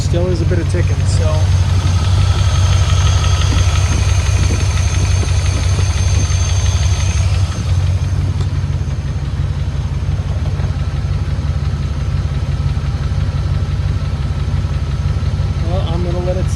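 An old Land Rover engine idles steadily and loudly with a low, even rumble and a faint repetitive ticking or knocking. A person talks over it partway through.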